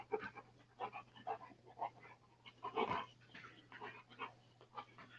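A dog pants in quick, breathy bursts with soft whimpers mixed in, close and fairly quiet over a low steady hum, with no talking.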